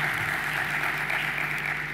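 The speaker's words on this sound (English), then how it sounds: "Another round of applause for our two directors from Kenya and South Africa." A conference audience at an event on unlocking Africa gives a round of applause for two directors from Kenya and South Africa, a dense, continuous wash of clapping that stays even for the whole two seconds.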